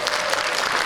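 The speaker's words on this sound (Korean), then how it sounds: "우리 박수 한번 주실까요?" Applause from an audience at a political constituency report meeting, a dense, even wash of many hands clapping that holds steady for under a second.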